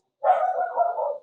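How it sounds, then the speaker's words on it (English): Really small dog giving one drawn-out, close bark or yowl of about a second, loud and alone against silence. "Sorry, my dog is really loud."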